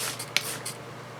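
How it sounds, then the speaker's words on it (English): Short hissing spray bursts of alcohol onto resin 3D-printed parts, a few quick pumps close by, with a faint background hum. "So I take this and I just spray the parts"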